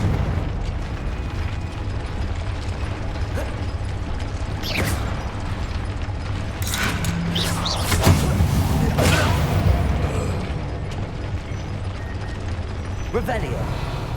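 Spell blasts from Bombarda and Confringo in the Hogwarts Legacy video game: booming bursts and crackling pops over a dense, busy game soundscape, with voices calling out amid the blasts.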